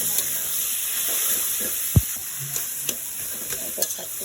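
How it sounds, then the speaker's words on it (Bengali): Leafy saag greens hitting hot oil with browned onion and garlic, a close steady sizzle and hiss with stirring scrapes and a few sharp clacks of the spatula, no talking. "শাকটা আমি বাগার দিচ্ছি বন্ধুরা।"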